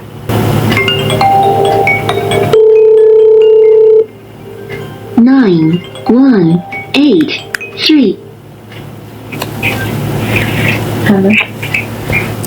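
A phone rings loudly through a TEMPT Cameo Bluetooth speaker: a steady electronic tone, then a warbling, repeating ringtone melody, followed by faint clinks and tones.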